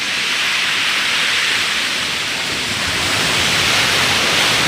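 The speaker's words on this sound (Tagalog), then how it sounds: "Medyo malakas pa yung alon kasi katatapos lang ng bagyong Rolly" Strong sea waves still rough after Typhoon Rolly roar without a break along a shoreline fishing spot, a loud, dense hiss of surf and wind filling the air.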